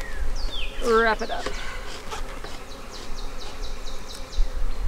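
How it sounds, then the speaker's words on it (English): Honey bees buzz around a beekeeper's face at an open hive. Shrill, darting drones swoop close and pass by over a dense, constant hum, and a person speaks briefly. "Look at them trying to attack my face."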